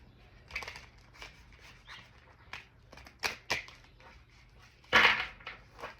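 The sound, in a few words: shuffling tarot cards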